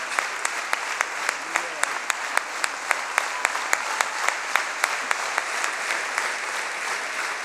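A church congregation claps steadily and loudly for a visiting guest preacher, the applause dense and sustained throughout with regular sharp accents, and a voice faintly audible beneath it.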